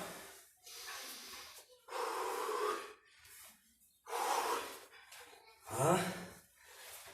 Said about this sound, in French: inspirez bien